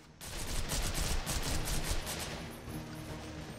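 A minigun fires in the video game Devil's Third, a loud continuous rattling burst with rapid pulsing shots sustained throughout, easing slightly toward the end.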